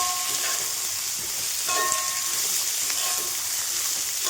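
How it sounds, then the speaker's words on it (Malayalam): Sliced onions sautéing in oil for egg rice, a steady close sizzle and crackle with the clink and scrape of stirring in the pan. "സവാള നമുക്കൊന്ന് ഇളക്കി കൊടുക്കാം."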